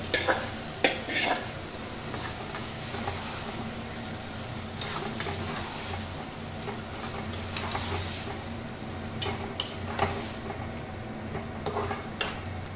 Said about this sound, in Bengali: এবার আমি এর মধ্যে ম্যারিনেট করা চিকেনটা দিয়ে দেব, আর খুব ভালো করে এটাকে কষিয়ে নেব।